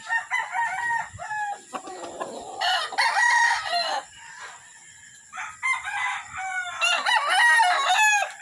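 Several gamefowl roosters crow repeatedly at a game farm, their overlapping cock-a-doodle-doos loud and close, with clucking between calls and no one speaking.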